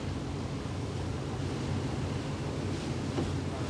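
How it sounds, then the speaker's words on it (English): A powerful mountain river torrent in Laos rushes past in a steady, loud roar of fast-moving current, constant and without voices. "It's like a mountain torrent. There's a lot of current."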